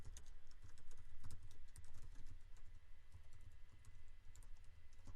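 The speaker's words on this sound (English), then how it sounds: "let's type something in each field and make sure nothing happens" Steady typing on a computer keyboard while filling in name and email fields of a web form, with rapid, fairly close keystrokes running continuously and no talking.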